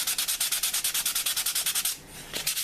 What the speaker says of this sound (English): And you're just sanding this to get this smooth.